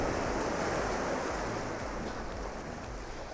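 Ocean waves rolling in over rocks at a rocky bay at summer's end: a steady, dense roar of surf washing close by, with some wind noise blowing across the microphone.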